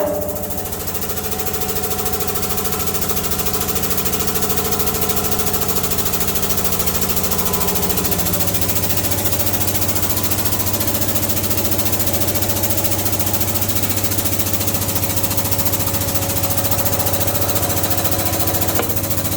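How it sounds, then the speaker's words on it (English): A tool presses out the inner race of a rear axle bearing on a Toyota 4Runner, FJ Cruiser or GX470, a steady, moderately loud mechanical drone and whine that holds throughout with a slight shift partway. "ready to press out that inner race using that tool"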